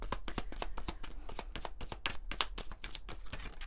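Rapid riffling and shuffling of an oracle card deck, Les Murmures du Cœur, a quiet close series of crisp papery flicks and taps in quick irregular bursts.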